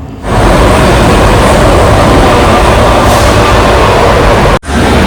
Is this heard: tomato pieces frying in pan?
no